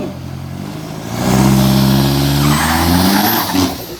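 A loud turbocharged SUV engine with a detached intercooler pipe revs up hard at a drag strip and holds a high roaring pitch, with a rising whine near the end.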